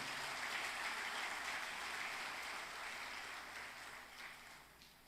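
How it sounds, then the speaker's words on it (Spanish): Church congregation clapping hands in praise, a steady dense patter of palms filling the sanctuary at moderate level, tapering slightly toward the end, with no voices over it. "dele fuertes palmas al Señor"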